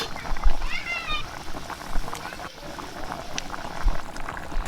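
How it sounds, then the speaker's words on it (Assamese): A pot of vegetable and fish curry with local fish and green vegetables bubbles steadily at close range, a continuous soft boiling with small liquid pops, while a voice talks over it. "এয়া চাওক, আমাৰ তৰকাৰীখন উতলিছে।"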